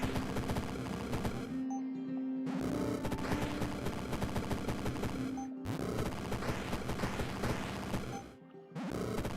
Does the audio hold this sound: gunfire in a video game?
yes